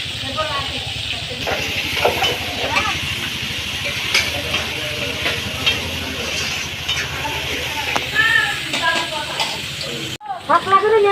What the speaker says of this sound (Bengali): সকালবেলা সবজি কেটেছিল, তো এখন ভাজা করছে।